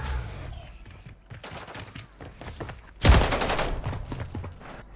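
Rapid gunfire bursts in the Call of Duty Warzone video game on Ashika Island, scattered cracks early on, then a loud sustained volley erupting about halfway through and rattling on to the end.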